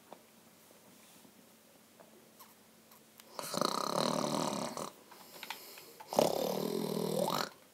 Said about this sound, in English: Oh, he's so annoying. Stop snoring.